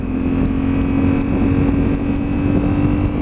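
A Honda Africa Twin motorcycle engine pulls hard in first gear with a steady, loud drone heard from the rider's position under heavy wind rush, no voice over it.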